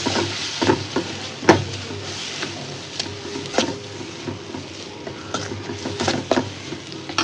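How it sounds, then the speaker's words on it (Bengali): Spices with salt and turmeric are sautéed in a pan for a stinging catfish and potato curry, giving a moderate frying crackle broken by spoon taps and scraping against the pan. "পরিমাণ মতন হলুদ সুন্দর করে কষাই দেই।"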